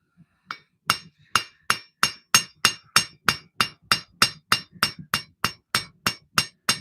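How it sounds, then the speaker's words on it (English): A hammer strikes a custom knife blade being forged, about twenty sharp ringing metallic blows in a steady, even rhythm, loud and close with no voices. "As I forge, I'm pulling down on the blade."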